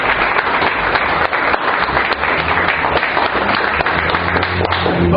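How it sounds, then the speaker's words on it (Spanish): A church congregation gives sustained, dense applause as a welcome at a Spanish-language service, steady and close for several seconds. "démosles ese fuerte aplauso de bienvenida a este lugar"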